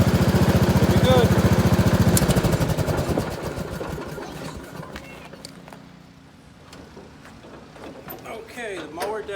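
Lawn mower engine running after a jump-box start, a loud, steady chugging drone that fades lower after a couple of seconds and then lingers in the background while voices talk over it.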